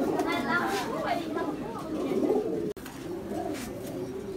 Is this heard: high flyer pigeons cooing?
yes